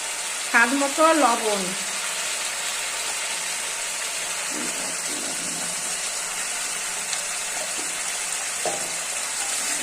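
Fish kalia masala sizzles steadily in a pan as it is sautéed, with a short burst of voice at the start and occasional scraping stirs over the constant frying hiss.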